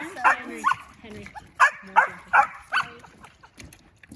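A wet black female Labrador puppy yips and whimpers during a bath, with roughly seven short, sharp, high cries in an uneven rhythm, close and moderately loud with quieter gaps between them.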